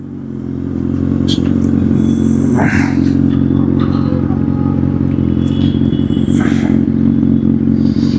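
A superbike engine while riding, a loud steady drone that swells up over the first second and then holds constant, with light clatter and wind noise on top.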